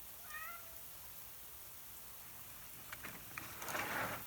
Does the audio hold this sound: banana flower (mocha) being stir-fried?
no